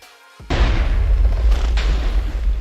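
Modded cannon firing in the game From The Ashes Mod, a single heavy boom that erupts after a quiet lead-in and rumbles on with a loud, sustained roar and a second burst partway through.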